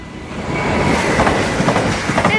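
An Arriva passenger train rolls past at speed in Nieuwstadt, Netherlands, loud and close, with a dense rushing roar and rhythmic wheel clatter over the rails.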